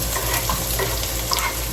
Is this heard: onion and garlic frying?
yes